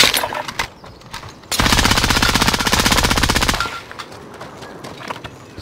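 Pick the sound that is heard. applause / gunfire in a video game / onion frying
gunfire in a video game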